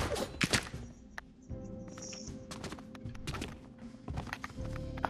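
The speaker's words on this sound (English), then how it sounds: "I'm gonna ride the horse." Horse hooves clip-clop in an escape-room style video game, with a series of hollow knocking steps and thuds in uneven rhythm over a steady background hum, fairly close and moderately loud.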